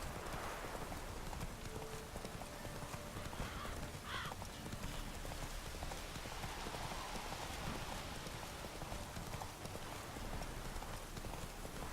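Roach the horse's hooves clip-clopping steadily in rain in The Witcher 3 video game, a continuous even gait close by under a constant wash of falling rain.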